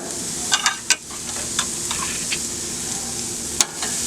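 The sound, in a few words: pork chops searing on a hot griddle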